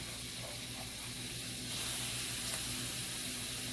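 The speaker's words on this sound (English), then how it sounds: "All right, butter on and popping." Shrimp sizzle in popping butter in a pan, a steady close frying hiss with small crackles throughout and a low hum beneath.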